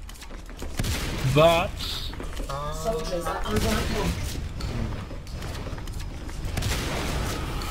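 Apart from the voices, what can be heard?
gunfire from a video game battle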